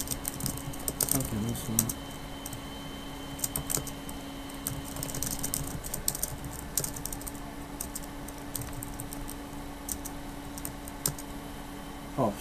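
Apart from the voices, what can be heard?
typing on a computer keyboard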